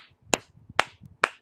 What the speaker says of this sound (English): She comes out and she claps.